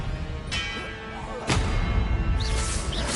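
A spell cast in the Hogwarts Legacy video game, the Expelliarmus disarming charm, lands as a sharp magical burst and impact over a rumbling bed of game noise, with another bright whooshing flare following.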